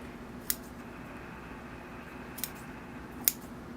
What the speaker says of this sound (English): I'm just going to trim these roots back in size a bit